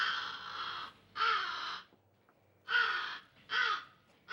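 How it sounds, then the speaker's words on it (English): A raven in the Halloween Town film caws loudly three or four times in harsh, evenly spaced calls separated by short silences. "Hey, it's the Raven from Sleeping Beauty."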